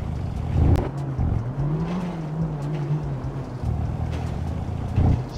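A car engine in GTA 5 idles and revs, its pitch rising and falling smoothly over a steady rumble, with a synthetic, game-like character.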